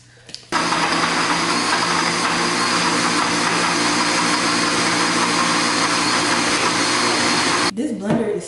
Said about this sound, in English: This blender is so old.